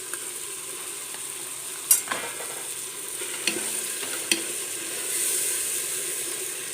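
A spoon stirs thick curd into a dense tuna biryani masala in a pan, with a soft steady sizzle and a few scraping clicks now and then.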